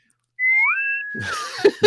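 A person whistles in imitation of a bosun's pipe: a rising, sustained two-tone whistle, close and fairly loud, holding steady for about a second before gliding down. It is followed by brief rustling and a couple of soft thumps.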